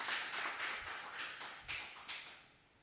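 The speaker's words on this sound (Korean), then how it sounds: "뜨겁게 우리 하나님께 감사의 박수를 치시기 바랍니다." A church congregation at Sunday worship claps hands, several separate rhythmic bursts of clapping, rather faint and distant, fading near the end.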